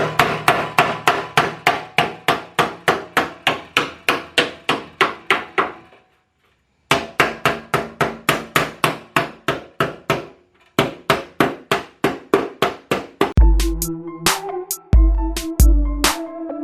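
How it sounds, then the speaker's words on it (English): A small hammer strikes a truck fender in rapid, evenly spaced metallic blows, several long runs of steady hits broken by short pauses, ending with a few slower, heavier strikes, loud and close. "So this is just a small hammer, and then we're just gonna take this fender."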